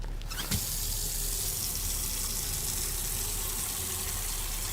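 Water runs into a container in an autopsy simulator game, a steady rushing gush that starts abruptly after a brief click and continues evenly at close range, with no one talking.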